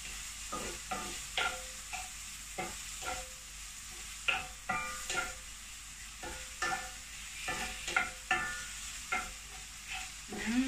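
Food being stirred in a cooking pan with a spoon, a series of irregular scraping strokes with soft sizzling underneath, moderately close, no voices.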